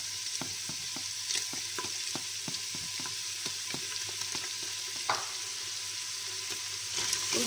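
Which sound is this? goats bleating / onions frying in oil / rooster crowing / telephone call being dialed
onions frying in oil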